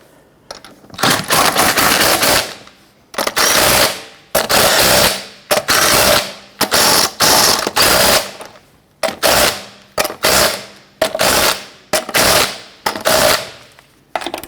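Repeated bursts from an impact gun running lug nuts down on a Jeep Grand Cherokee wheel, a dozen loud rattling rattles of about a second each separated by short gaps, close up with no talking.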